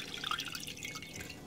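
Water draining and dripping off washed lima beans in a home kitchen, faint irregular trickles and small drips over a short moment, with no talk.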